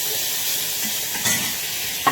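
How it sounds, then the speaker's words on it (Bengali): Fish such as small catfish and pabda fry in oil, a loud, dense, continuous sizzle close to the microphone with a brief splattering rise near the end and no talk. "মাছ শুধু ভাজা"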